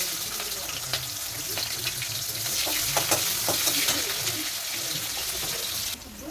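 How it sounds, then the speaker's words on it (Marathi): Chopped onions hit hot oil already crackling with mustard seeds and curry leaves while a pumpkin bhaji is being cooked, giving a loud, steady sizzle with scattered pops and stirring sounds throughout. "त्यानंतर आपण काटलेले कांदे टाकूया."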